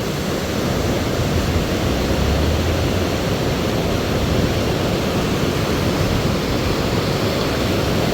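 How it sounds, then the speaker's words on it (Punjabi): Loud, continuous roar of river water rushing through open gates at Harike Pattan, a dense steady wash with no breaks, close and overwhelming. "ਪਾਣੀ ਦੀ ਆਵਾਜ਼ ਸੁਣੋ ਕਿੰਨੀ ਜ਼ਿਆਦਾ ਹੈ"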